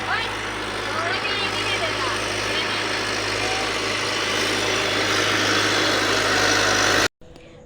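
A big tractor stuck in mud keeps its engine running in a steady, loud diesel drone that goes on almost without change, then cuts off abruptly near the end.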